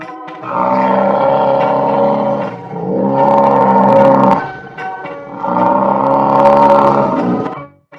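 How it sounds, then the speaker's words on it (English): A water buffalo gives three long, deep, drawn-out lowing calls, each lasting a couple of seconds with brief gaps between, loud and near with nothing else heard. "Water buffalo"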